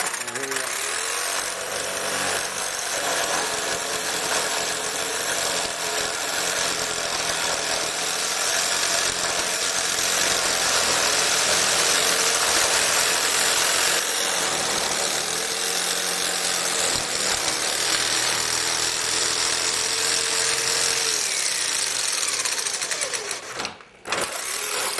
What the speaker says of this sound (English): this is a skill saw. It's got a laser thing on it